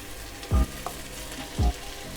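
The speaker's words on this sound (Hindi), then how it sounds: "अब हम इसमें सुपर स्टार दाल को डालेंगे।" Moong dal hits hot sizzling masala in a pan and fries with a continuous close sizzle, broken by two heavy thuds or stirring knocks, with no talking.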